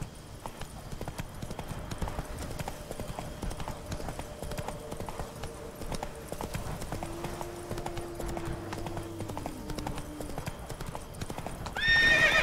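A horse gallops in The Witcher 3, steady rapid hoof clops under a low music bed, with a neigh rising near the end.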